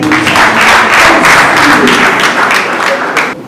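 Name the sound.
audience clapping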